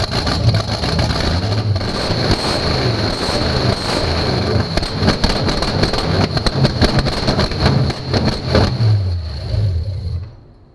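A 1957 Chevy engine runs at its first startup, a loud, close, rumbling idle with a steady throb, brief revs and a persistent high whine, fading out at the end.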